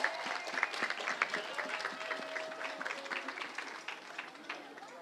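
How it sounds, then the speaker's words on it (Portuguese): An audience claps in a steady patter of applause, moderately close, with a voice faintly mixed in. "Um aplauso para Omar e um aplauso para Viva Kids!"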